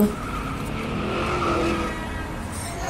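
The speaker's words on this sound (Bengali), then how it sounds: "হঠাৎ করে একটা চার চাকা ব্রেক কষল" A four-wheeled car brakes suddenly on a road, its tires skidding in a loud, sustained squeal that lasts about three seconds with no voices.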